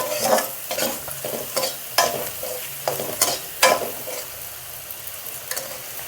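Chana dal fries in a pan with a bright sizzle as a spatula stirs it in quick, rhythmic scraping strokes, loud and close, with no talking.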